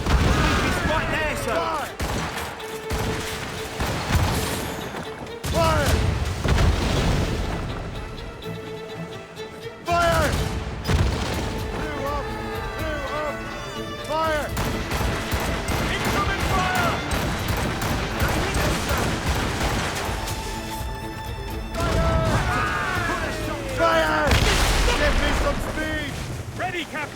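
Ship cannons boom in repeated heavy volleys during a naval battle in Assassin's Creed Rogue, loud crashing blasts layered with shouted commands and battle noise.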